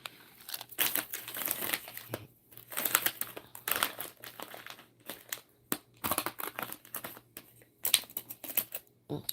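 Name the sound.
opening plastic packaging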